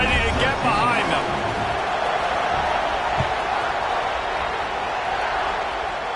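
A football stadium crowd murmurs and roars in a broad, steady wash before kickoff, with a voice talking over it at the start.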